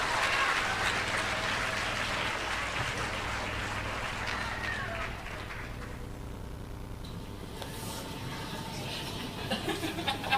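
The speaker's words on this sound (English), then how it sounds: "please give a round of applause for Jacob Pearson" A school assembly crowd at Waller Middle School claps for a student, dense applause that is loudest at first and thins out over several seconds, with scattered voices in the hall.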